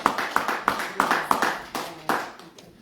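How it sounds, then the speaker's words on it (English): Audience at a poetry night at Linneman's Riverwest Inn claps: a few close, sharp hand claps in an uneven rhythm, fairly loud, with no voices over them. "Give yourselves a round of applause."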